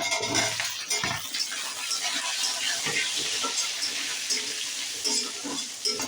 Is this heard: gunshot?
no